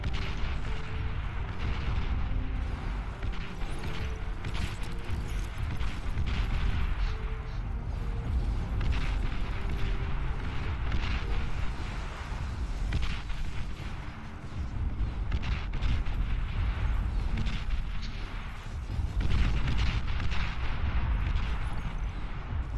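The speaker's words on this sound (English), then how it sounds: "I'm sure you can see how annoying these artillery pieces are" Artillery fire in the strategy video game Beyond All Reason, a continuous dense rumble of distant booms and mechanical clatter at steady moderate loudness, with no talk.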